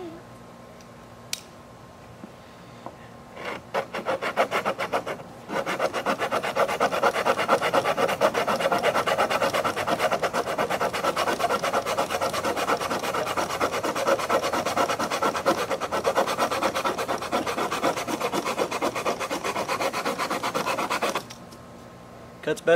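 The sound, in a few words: cheap Home Depot sheetrock hand saw cutting wood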